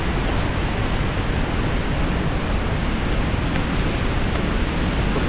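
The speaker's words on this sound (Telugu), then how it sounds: "ఇక్కడ నుంచి వెనక్కి కనబడుతుంది కదా కాలువ వదిలిన తర్వాత వాటర్ ఫ్లో ఎలా వెళ్తుంది అక్కడ." Water released from Somasila Dam rushes into a canal in Andhra Pradesh, a steady, loud, unbroken broadband roar that fills the whole stretch with no voices.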